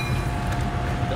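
A steady low rumble with a faint tonal hum from an old train idling or rolling nearby, brief and without speech.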